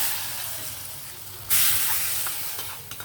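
Hot tempering is poured into a pot of chana dal and brinjal curry, setting off a sudden, loud hiss and sizzle that bursts in midway, then slowly fades with a few small crackles and pops.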